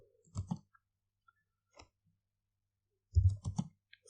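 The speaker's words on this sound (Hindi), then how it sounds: "मैं एसक्यूएल पे क्लिक करता हूँ और एक नया सिंटैक्स यहाँ पे टाइप करता हूँ" Clicks and keystrokes on a computer keyboard come in a few short, close clusters separated by near silence, with a louder burst of several quick taps toward the end and no voices.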